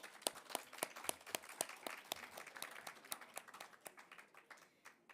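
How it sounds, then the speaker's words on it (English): A conference audience at a nature pavilion claps in distinct, separate beats that gradually thin out, fairly faint and without speech on top. "I think we can give them a big round of applause"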